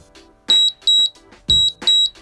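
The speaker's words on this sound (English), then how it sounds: "each time you hear that beep, you should be starting or stopping" A workout interval timer sounds a sharp, loud electronic beep pattern during a Tabata HIIT session, with four quick repeated high tones in close succession and faint background noise between them.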